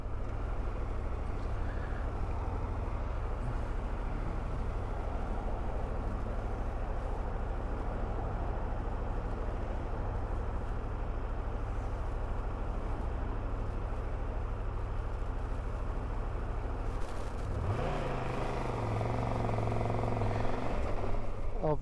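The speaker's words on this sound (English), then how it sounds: "Obviously hoping I'm picking up the engine noise." Steady engine drone and wind rush heard from a motorcycle rider at 20 mph with the helmet visor open, continuous and fairly loud, shifting in tone near the end.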